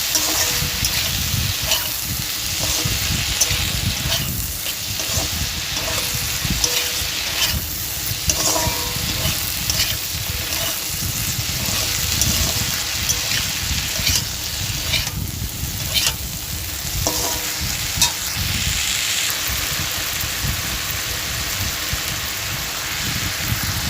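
Kalmi greens (water spinach) sizzle steadily in a pan while being stirred, with a dense, continuous frying crackle and occasional scrapes of the spoon throughout.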